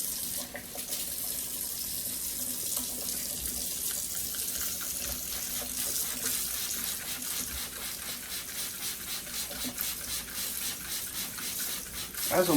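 K&N cleaner is sprayed onto a Jeep Wrangler K&N air filter to soak it, making a close, continuous watery hiss that runs steadily for about twelve seconds.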